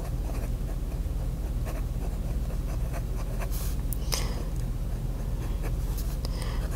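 Scratchy fountain-pen nib writing on paper with Van Diemen's Spotted Sun Orchid ink, a steady close scratching with faint brief strokes over a constant low background hum.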